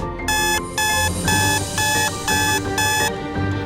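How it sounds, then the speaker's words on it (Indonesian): An alarm clock rings loudly and insistently in repeated harsh bursts with brief gaps, sounding alone and close. "Berisik banget alarmnya."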